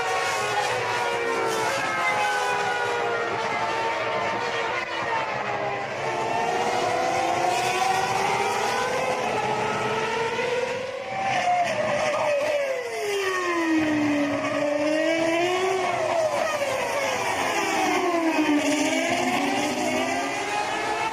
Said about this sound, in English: We are at the half-distance mark in the Chinese Grand Prix, and Alonso is in the process